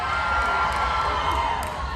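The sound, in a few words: crowd cheering at VidCon 2023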